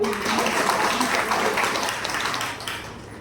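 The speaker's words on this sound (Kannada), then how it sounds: "ಒಂದು ಚಪ್ಪಾಳೆ ಕೊಡಿ" Audience applause for a woman at a leaders' meet in Hubli, a steady broadband clapping wash lasting the whole stretch, with voices murmuring underneath.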